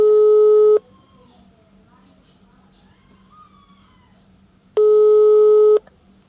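Telephone calling tone while placing a call from a parking lot, two loud steady beeps about four seconds apart with quiet background hum between them, and a voice speaking briefly.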